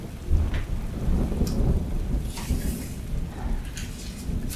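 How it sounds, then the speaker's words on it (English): A worsening thunderstorm: steady heavy rain on surfaces with low rolling rumbles of thunder throughout, loud and continuous, no voices. "The storm. It seems to be getting worse."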